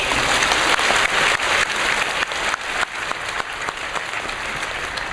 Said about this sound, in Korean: 하나님 앞에 감사의 박수 올려드리겠습니다